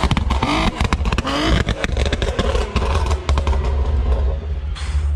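A Nissan Skyline R32 running a crackle map exhaust revs hard, its engine roaring loud and close with dense rumble, sharp pops and crackles scattered throughout, and no one speaking.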